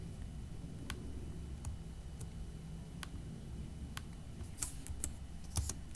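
Sparse keyboard clicks tap out entries in an Excel spreadsheet, a few isolated keystrokes followed by a quicker cluster near the end, close but faint over a low hum.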